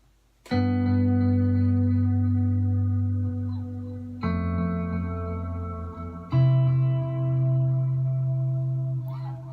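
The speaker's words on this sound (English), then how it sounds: "And a fair amount of reverb, which sort of sounds like this." Three sustained electric guitar chords ring out slowly at 173 BPM, each swelling with echoing delay and a wide reverb wash that lingers and fades.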